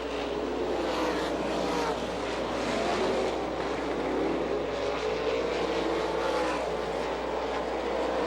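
Sprint cars race around the Butler High Bank 3/8-mile dirt oval in Michigan, an All Star Circuit of Champions event, with a continuous loud engine roar that swells and fades steadily and no break.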